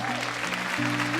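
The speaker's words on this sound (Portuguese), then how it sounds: "Quantos podem aplaudir ao Senhor?" A church congregation applauds during a worship service, a brief burst of dense clapping laid over sustained held tones.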